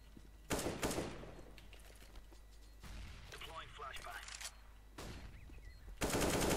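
Bursts of gunfire in the video game Counter-Strike: Global Offensive, loud cracks separated by quieter stretches of game noise and scattered clatter.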